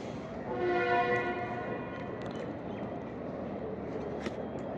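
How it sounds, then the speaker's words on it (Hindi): A departing rail car running off in the distance, on a cold, foggy stretch between Lalamusa and Faisalabad, with a horn-like harmonic tone in the first two seconds fading into a steady, faint low rumble. "कुछ ही देर पहले रेल कार ने यहाँ से डिपार्चर किया है।"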